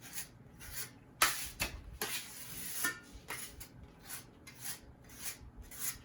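A metal knife spreads and works plaster into scraped-out damage on a wall arch, making repeated rasping, scraping strokes at close range, some sharper and louder, others soft and rhythmic.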